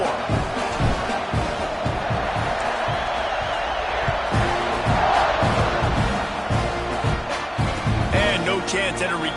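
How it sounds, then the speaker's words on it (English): Football stadium crowd at a game against Texas, buzzing just before a kickoff: a loud, steady wash of massed voices and cheering that fills the whole stretch, with scattered shouts and a commentator's voice running over the top. "this crowd is buzzing after that last score"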